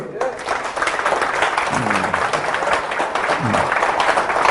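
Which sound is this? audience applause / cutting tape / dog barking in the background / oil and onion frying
audience applause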